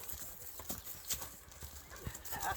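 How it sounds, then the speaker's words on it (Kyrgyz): Three light racing horses clip-clop over the ground in uneven, fairly close hoofbeats, with someone talking over them. "Мына атты көрүңүздөр, жеңил аттар экен үчөө тең."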